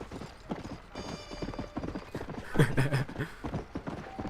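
Horse hooves clip-clop steadily in Red Dead Redemption, a rapid, even rhythm of close, clear hoofbeats that runs throughout, with a brief whinny-like burst in the middle.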